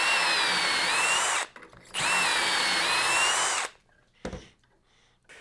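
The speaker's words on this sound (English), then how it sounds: "And I will be drilling matching holes, of course, on the cabinet pieces." A power drill whirs loudly in two long bursts drilling holes in wooden cabinet pieces, pitch dipping under load, followed by quieter handling knocks.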